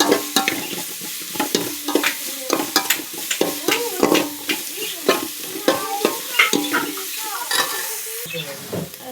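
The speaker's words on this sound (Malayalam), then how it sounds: "ഇത് നല്ല വഴറ്റി കൊടുക്കും." Ingredients for a Kerala-style chempalli (red snapper) fish curry being sautéed in a pan, with steady frying sizzle and frequent scraping, clattering stirs of a spoon against the pan, close and fairly loud, no talk.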